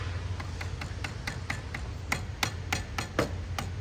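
A hammer taps repeatedly on the jack shaft of a Harley-Davidson Evo Ultima motorcycle transmission during a chopper rebuild, a steady series of sharp metallic strikes, growing firmer toward the end over a low hum.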